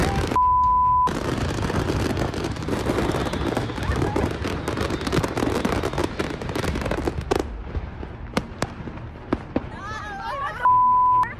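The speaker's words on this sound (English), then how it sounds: "a massive explosion occurred in Ontario, California, caused by an illegal fireworks stash igniting in the backyard of a home" An illegal stash of fireworks explodes in a home's backyard in Ontario, California: a dense, sustained roar of rapid crackling blasts for several seconds, thinning into scattered sharp bangs, with beeps at the start and end.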